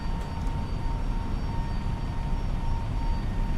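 Airliner engines at climb thrust in a flight simulator give a steady, even roar with a thin high whine over it, continuous and fairly loud, with no talk.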